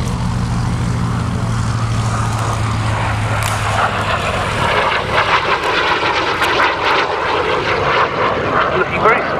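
A Hunting Jet Provost T3A jet aircraft roars past in a display, a steady broadband rush with a low droning hum at first, loud and close, fading into a hissing whoosh.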